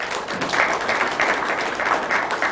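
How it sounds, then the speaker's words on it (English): Audience applause at a Federalist Society talk, a dense steady patter of clapping across the whole stretch, moderately loud with no voices over it. "So give a round of applause for Dr."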